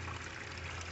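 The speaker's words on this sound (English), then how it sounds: "Water pouring out everywhere." Water pours and trickles steadily from a new gold sluice at a creek paydirt run, a constant splashing wash running alone, close and even throughout.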